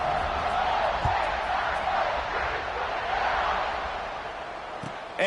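A stadium crowd at a college football kickoff, with Virginia on the field: a steady, loud roar of cheering that swells and holds for several seconds, then eases slightly toward the end.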